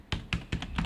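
Four or five fairly loud, evenly spaced key taps on a computer keyboard while a web address is typed, heard close up in under a second with no speech.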